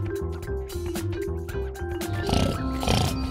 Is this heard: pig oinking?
yes